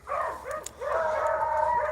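Beagle hounds in a pack bay and yip during a rabbit chase, overlapping howling cries carrying steadily at moderate distance outdoors.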